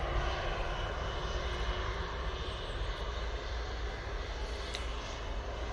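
A Jet2 Boeing 737 jet at Manchester Airport gives a continuous loud engine roar, a steady broadband rumble holding at one level throughout, heard from outdoors with no talking.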